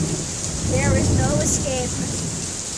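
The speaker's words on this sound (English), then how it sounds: "it is raining so much" Heavy rain pours down steadily during a thunderstorm in Canada, a dense close hiss that never lets up, while a voice speaks briefly over it.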